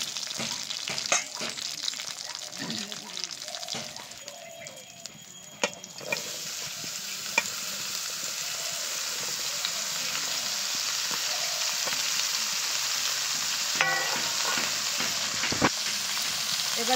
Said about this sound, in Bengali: ফোড়নটা একটু ভাজা ভাজা করে তারপরে লাউগুলো দিয়ে দেবো।